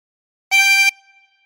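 Hole 13 of a 24-hole tremolo harmonica is blown for a steady, loud reedy chord of about four tenths of a second, heard alone, followed by a soft decaying ring.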